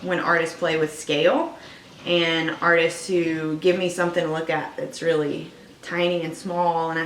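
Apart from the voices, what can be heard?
None of the usual background noises is heard.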